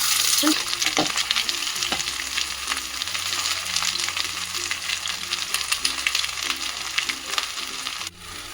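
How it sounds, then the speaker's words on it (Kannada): Ivy gourd pieces frying in a little oil for a dry stir-fry, giving a steady, close sizzle with scraping stirs and occasional crackles, no voices. "ಸ್ವಲ್ಪ ಎಣ್ಣೆಯನ್ನು ಹಾಕ್ಕೊಂಡು ನಾವು ಹುರ್ಕೊಳ್ಳೋಣ"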